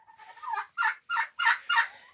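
Several loud clucking calls from chickens in quick succession, about five rough bursts in a steady rhythm, close by.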